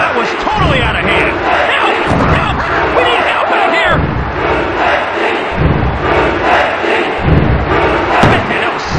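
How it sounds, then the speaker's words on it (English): A wrestling arena crowd in WWF Attitude on the N64 roars and cheers loudly and without a break, rising in surges, with a commentator's voice audible under the crowd noise. "Check out this crowd. They're on their feet."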